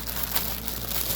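A cross stitch kit is pulled from its plastic bag, giving a close, continuous crinkling and rustling of packaging.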